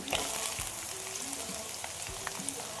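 Thick green chillies fry in hot oil, a dense continuous crackling sizzle with small pops close by, heard alone without talk.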